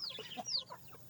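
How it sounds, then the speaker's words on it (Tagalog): A native Asil rooster clucks in a few quick, close, fairly quiet calls in a farmyard. "Kita mo ang aking asil na kachaw."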